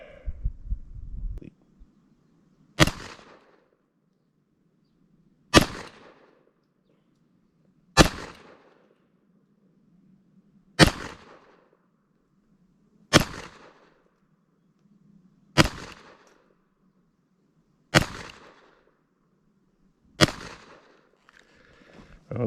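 Beretta Model 87 Cheetah pistol fired at range targets from 15 yards, eight sharp evenly spaced shots about two and a half seconds apart, each ringing briefly over a faint low hum, with brief handling noise at the start.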